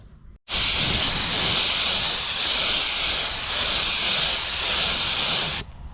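A spray can or spray gun laying a first coat of paint onto the gas tank of a 1957 VW Oval Window, one loud continuous hiss held for about five seconds with an abrupt start and stop, outdoors.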